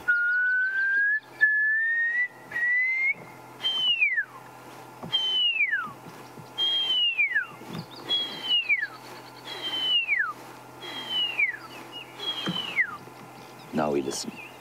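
A person whistles an imitation of a pearl-spotted owlet call in the bush at sunrise: a long rising whistle, then a series of descending whistled notes repeated at steady intervals, near and clear.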